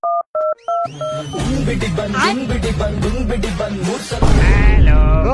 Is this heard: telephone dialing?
yes